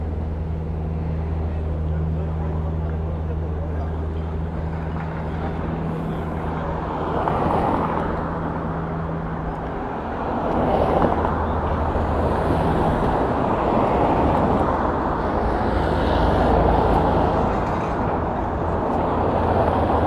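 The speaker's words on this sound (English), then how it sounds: "Busy old road today, but the traffic is moving pretty steadily." Steady road traffic along the Paseo Marítimo sea front in Palma de Mallorca, a continuous broadband roar of passing vehicles with engine hum, swelling as nearer cars go by around the middle and later on, with no talk.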